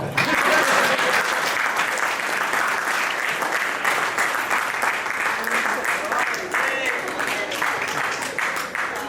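Sustained applause from a poetry gathering audience, a thick, even roar of many hands clapping throughout, with a voice faintly audible beneath it.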